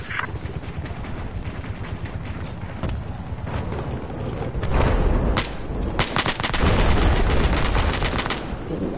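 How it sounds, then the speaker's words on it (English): Enemy machine gun fire in a war video game, rapid bursts of close, loud shots that build into dense sustained firing in the second half, with occasional voices underneath. "Enemy machine gunner."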